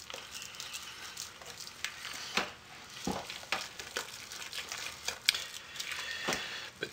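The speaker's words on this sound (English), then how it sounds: "Just keep stirring your soap and your fragrance will be absorbed into your soap." Hot process soap is stirred in a crock pot, giving a soft, close scraping and squelching sound that is quiet and continuous, with irregular strokes and no voices.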